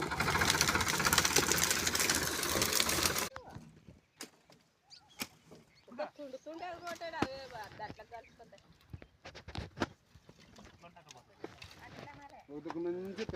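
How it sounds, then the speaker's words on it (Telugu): A tractor engine pulling in a field roars loud and dense for about three seconds, then cuts away, leaving people talking over faint background sounds. "ట్రాక్టర్తో గుంజుతున్నాం"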